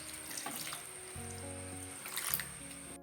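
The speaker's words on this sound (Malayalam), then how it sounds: "ഇതിൽ കുറച്ച് നേരം നമ്മൾ ഇളക്കിയതിന് ശേഷം നമ്മൾ 2ാം പാലും കൂടെ ഒഴിച്ച് കൊടുക്കാം" Second coconut milk extract poured into a cooking paste for a children's lehyam, giving a steady liquid stream and splash with faint clinks, fairly quiet and without speech.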